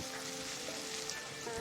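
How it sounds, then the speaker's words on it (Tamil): Onion, green chilli and ginger frying in oil and ghee in a pan for semolina khichdi, a steady soft sizzle that stays quiet and even throughout with no talk. "இஞ்சி சேர்த்து நல்லா வதக்கணும்."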